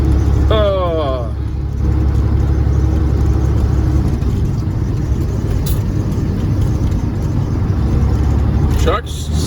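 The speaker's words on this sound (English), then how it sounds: "Truck's still running a little choppy." A truck with a Cat 3406E diesel engine running choppy idles steadily with a deep, uneven rumble throughout, loud and close from inside the cab, with a short squeak near the start and another near the end.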